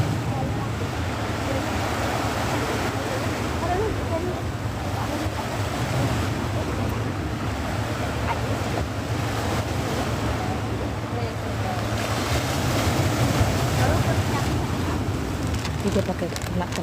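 Ocean waves at Sanur's fishermen's beach in Bali keep up a steady, broad rush of surf, with wind buffeting the microphone throughout and no clear breaks between swells.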